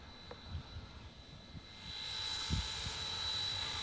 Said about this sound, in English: Look at the smoke. They're firing up an engine.